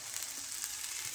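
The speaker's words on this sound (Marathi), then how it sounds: "टोमॅटो थोडंसं तेलात द्यायचं" Tomato pieces fry in a little oil, giving a close, steady sizzle with a bright crackling hiss and no talk.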